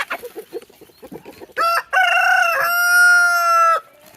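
Homestead roosters are heard up close: a run of clucks, then two loud crows from a flock of several roosters one after the other, the second crow long and drawn out.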